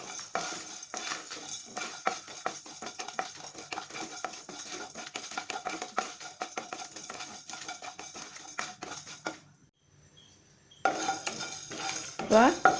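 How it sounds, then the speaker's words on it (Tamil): Cumin, fennel, black pepper, cinnamon and dried red chilies dry roasting in a pan, with steady scraping and stirring clicks that break off briefly near the end before resuming. "சீரகம், சோம்பு, மிளகு, பட்டை, வரமிளகாய் இது எல்லாத்தையும் போட்டு நல்லா வறுத்து எடுத்துக்க போகிறேன்"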